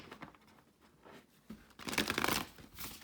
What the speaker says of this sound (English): So just doing a shuffle here.